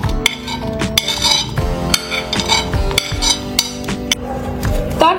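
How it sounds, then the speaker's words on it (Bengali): Raisins being added to an airtight container, a steady series of close, light clinks and small hard impacts with a faint murmur of speech underneath. "তারপর আমি এখানে যে নর্মাল কিশমিশ আছে সেগুলো দিয়ে দিলাম।"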